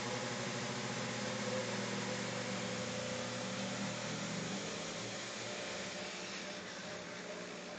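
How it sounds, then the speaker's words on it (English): Tobin Arc cap grinder grinding the part line of a connecting rod, a steady, even mechanical whir with a droning motor hum that holds without a break. "We're going to grind the part line."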